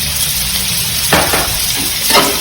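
Onions and green chillies sizzle steadily in a hot pan while a spoon stirs them, with a couple of sharp scraping strokes against the metal, close and with no talking.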